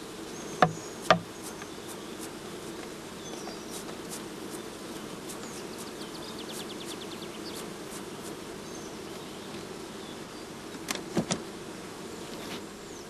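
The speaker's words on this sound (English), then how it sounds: "Shaken or brushed into the funnel, the bees fall into the swarm box underneath." Honeybees being shaken and brushed off comb through a funnel into a swarm box for a shook swarm give a faint, steady buzzing hum. A few sharp knocks land near the start and near the end.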